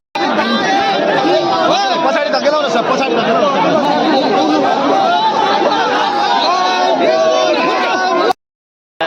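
A large crowd gathered in Janakpur awaiting former King Gyanendra, a dense loud babble of many voices with shouts and whoops, continuous and close until an abrupt cut near the end.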